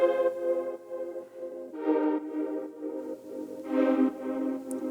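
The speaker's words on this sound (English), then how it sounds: "So you can hear that with the chordal drone that was in one of the original parts." Oberheim 8 synthesizer holding a sustained chordal drone, steady layered harmonic tones that swell in waves, with no voices.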